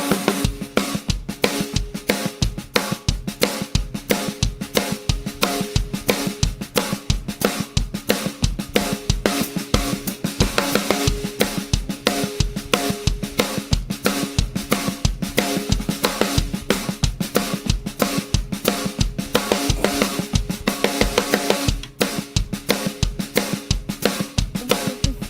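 Sped-up polka beat on a full drum kit, a fast, relentless two-step pulse of kick, snare and cymbals driving continuously and loudly throughout.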